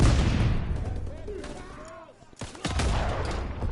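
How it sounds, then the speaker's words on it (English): Explosive charges detonating in Call of Duty: WWII amid battlefield noise, with heavy rumbling blasts and crackling gunfire, a dip in the middle, then sharp loud bursts resuming. "E-charges detonated."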